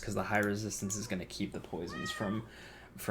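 A house cat meows in the background, pitched and wavering, partly under a man's steady close speech while he talks over a Skylanders: Ring of Heroes game.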